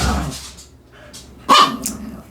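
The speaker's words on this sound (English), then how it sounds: "My dogs are getting loud." Dogs bark indoors, one sharp loud bark close by among softer yips and whines, with quieter sounds before it.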